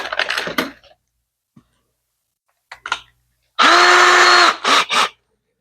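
A handheld power drill bores pilot holes for screws in laminated boat-seat wood, with a short opening run, a few brief blips, then a loud sustained whine followed by two quick bursts, all close by.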